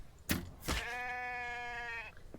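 A sheep in the video game The Infected lets out a single drawn-out, wavering bleat lasting over a second, preceded by a couple of sharp thuds, heard close with no talking over it.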